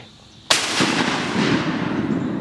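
A single loud gunshot fired while bird hunting outdoors, a sharp blast with a long rolling echo and decay that fills the rest of the moment.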